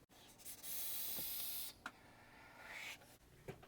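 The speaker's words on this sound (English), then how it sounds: "so let me have another vape" Vapour is drawn through a large 30mm Aromamizer Plus RDTA: a soft, airy hiss of airflow rises and holds for about a second, then thinner breathy draws and puffs follow at a quiet level.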